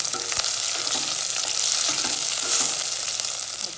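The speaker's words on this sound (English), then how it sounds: "Now I will add the onions. I will not brown it, I will just roast it till it is soft." Onions sizzling steadily in hot oil in a pan for a Punjabi kadhi pakoda, with a continuous bright fry hiss and occasional stirring scrapes, close and fairly loud with no talking.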